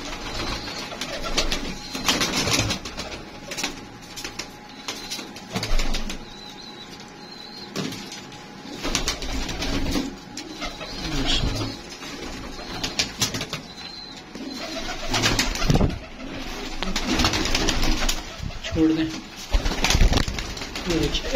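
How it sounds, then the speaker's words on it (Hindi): Old-breed pigeons kept in a loft for sale, soft repeated cooing and occasional wing flutters close by, rising and falling in bursts under intermittent talk. "जेन्युइन पुराने संभाल के रखे हुए हैं इन्होंने कबूतर"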